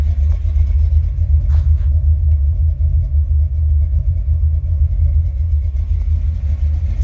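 A Buick Regal with a 455 Stage-1 V8 and a broken throttle cable runs with a deep, heavy rumble, steady and loud from inside the car, no talking.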